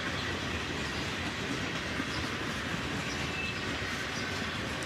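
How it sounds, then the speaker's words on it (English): A CSX freight train carrying autoracks, tank cars and center beam cars rolls past nearby, a dense continuous rumble and wheel clatter with no pauses. "And as you can see, even more autoracks mixed in on this train here."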